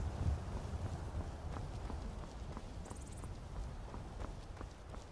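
Horse hooves clip-clop in the video game Skyrim, a steady walking rhythm of soft thuds over a constant windy background hiss, fairly faint.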